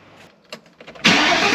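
A New Edge Mustang GT with a catless X-pipe exhaust cranks with faint starter clicks, then fires into a sudden loud, raspy roar that holds steady close by.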